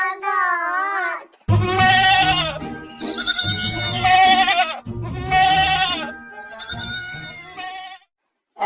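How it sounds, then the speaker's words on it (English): Goats bleat in a series of loud, wavering calls, several in a row with short pauses, close by and clear. "G for goat."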